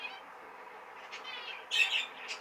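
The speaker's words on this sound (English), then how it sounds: "who gifted me this pair of Zebra Finches" A pair of zebra finches gives bright, nasal squawking calls in a few short bursts, the loudest near the end, over a low steady hum.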